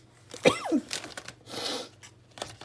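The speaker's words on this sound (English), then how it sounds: "Oh God, I feel like I'm gonna sneeze." A woman lets out a single sharp sneeze up close, followed by a quick breathy exhale and some faint rustling in a quiet room.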